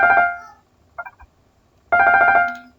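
A high mi note ornamented with a trill, played twice as rapid, bright tonal bursts with a soft, brief flutter between them, clear and close with no voices.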